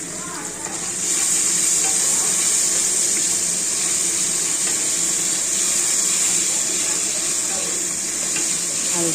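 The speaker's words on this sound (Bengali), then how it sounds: "আলুটা ভেজে নিয়ে তুলে রাখবো।" Potatoes frying in hot oil with turmeric in a pan, a loud continuous sizzle with occasional stirring scrapes, close up and steady.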